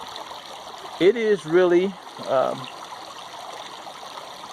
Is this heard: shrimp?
no